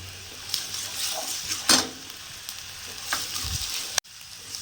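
Two sprigs of curry leaves crackle as they are stir-fried in a pan: a steady close sizzle broken by stirring scrapes and a brief pause near the end, with no voices.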